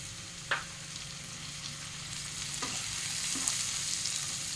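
Soft steady sizzling of chopped tomatoes frying in a pan, with a few light clinks of a utensil stirring.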